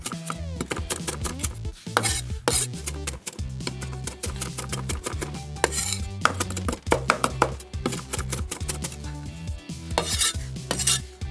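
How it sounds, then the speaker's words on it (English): A cleaver roughly chops ingredients for BBQ Hainanese chicken rice, giving rapid, uneven knocks on the board under steady background music. "I'm just going to roughly chop these all up."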